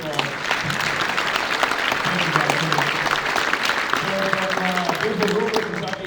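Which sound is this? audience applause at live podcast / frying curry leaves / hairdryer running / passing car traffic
audience applause at live podcast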